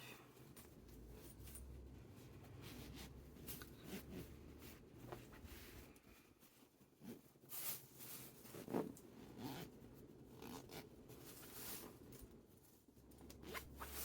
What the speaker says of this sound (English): then we're going to zip it up